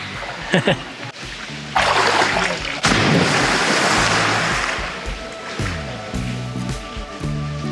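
A person wading into a swimming spot at Kakadu National Park, with loud, near splashing and churning water that rises and then continues as a steady rush, alongside some vocal sounds.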